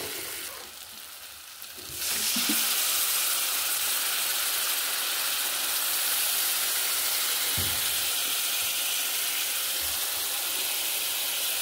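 Masala spice paste frying in hot oil in a pan for a bhola fish curry: a quieter start, then a loud, steady sizzle and hiss with occasional soft stirring knocks, with no talking.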